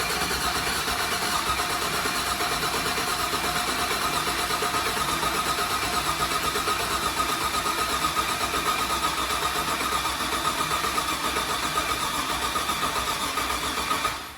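A project truck with a suspected fuel or tuning fault cranks continuously without catching, a steady, dense, close starter-and-engine churn that runs evenly for the whole stretch.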